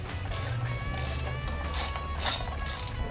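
A ratchet wrench backing out the brake pump bolt on a 1998 Harley-Davidson Sportster 883, giving a steady close metallic clicking that runs through the whole stretch, loud and with no talk over it.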